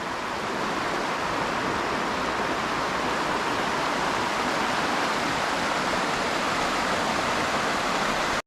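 A river near the Bhutan border in the Dooars, close to the Jaldhaka area, rushes with a steady, dense wash of flowing water that stays constant from start to finish.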